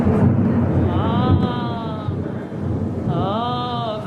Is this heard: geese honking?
no